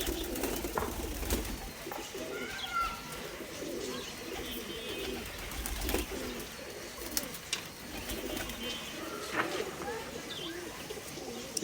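Imported Indian Madrasi pigeons coo in soft, repeated low calls close by, with occasional chirps and wing flutters, while someone talks over them.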